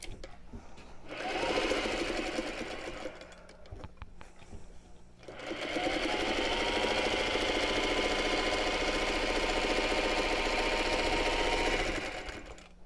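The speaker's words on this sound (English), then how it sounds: "I'm first going to start sewing along this way." A sewing machine stitches along selvage strips in two runs, a short burst and then a longer steady one, its rapid motor whir loud and close with a brief pause between.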